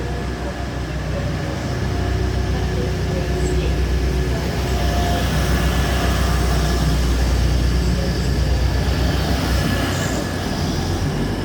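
A blue Class 156 diesel multiple unit rolls into Nottingham station, its engine a steady low drone with rail rumble holding loud and close throughout, with faint wheel squeal over the top.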